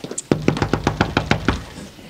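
About nine sharp, close knocks strike a door in a quick, even series, loud and fairly crisp, with no talking over them.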